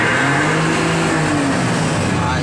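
Isuzu 6HL1 diesel engine after a DPD delete, revving loudly up close with a strong sustained roar and rising and falling pitch, a voice faintly under it.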